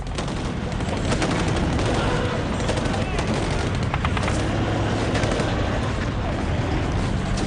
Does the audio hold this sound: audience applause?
no